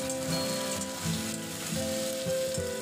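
Slit green chillies and chopped tomato with a little salt sizzle and fry steadily in a pan, a dense, continuous crackle close by with faint stirring and no voices.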